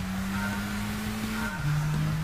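A Ford Focus ST in Gran Turismo 6 runs a licence test, its engine holding a steady buzzing drone before the pitch drops at a gear change, a loud continuous game-engine sound with no talking.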